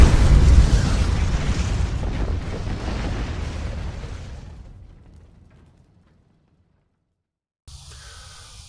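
A 300 Norma Magnum Accuracy International long-range rifle fires at a 100-yard range. One loud, booming report trails off in a long rumbling decay, then there is silence before a faint noise returns near the end.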